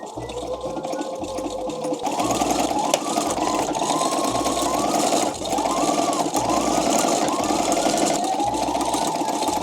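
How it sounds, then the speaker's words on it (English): A sewing machine stitches together two corset pieces made from birthday candles, a loud close motor drone with a fast rhythmic needle chatter that pauses briefly around the two-second mark and then keeps running. "let us try to sew these two pieces together"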